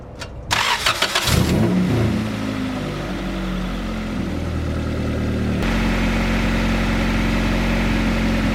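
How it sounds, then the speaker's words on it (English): An Acura Integra fitted with a Civic radiator cranks and fires on a cold start, briefly revving before settling into a loud, steady idle heard up close. "then we'll get that cold start going"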